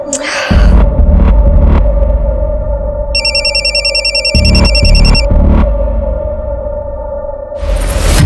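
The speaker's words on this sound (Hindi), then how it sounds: "ये विकी का फोन क्यों नहीं लग रहा है?" A trilling electronic telephone ring sounds for a couple of seconds over a loud, low droning music bed with whooshing swells, in a crime TV drama.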